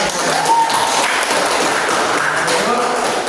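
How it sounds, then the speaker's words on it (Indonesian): Classroom of fifth-grade students applauding together, a loud, steady wash of clapping that fills the room without pause, with a few voices mixed in. "kita beri tepuk tangan"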